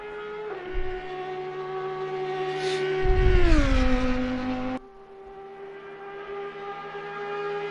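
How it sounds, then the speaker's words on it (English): An Audi GT3 race car's engine in a racing video game at Mount Panorama, a loud sustained drone that climbs through the revs, drops on a downshift and then holds steady. "Mamster in the beautiful sounding Audi GT3, making his way through Forest's Elbow and passing the number 5 Ferrari"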